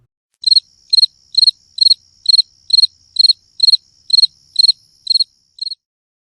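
Rhythmic cricket chirping, about eleven crisp pulsed bursts at an even pace above a thin sustained high tone, close and alone, the last chirp slightly softer.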